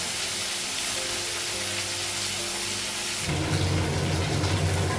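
Fish frying in a pan of hot oil on a home kitchen stove, a steady hiss and sizzle that swells suddenly louder and crackles harder partway through, with no talking.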